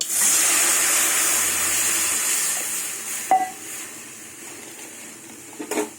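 Water poured into a hot pan of fried garlic, dried red chilli and black cumin hisses into a loud, steady sizzle that slowly fades, with a couple of brief clinks of a utensil near the end.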